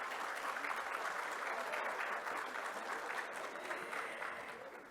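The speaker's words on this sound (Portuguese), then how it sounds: "Uma salva de palmas para ele." A Brazilian auditorium audience applauds as a guest is called to the stage, a continuous even wash of clapping that carries through the whole moment without letting up.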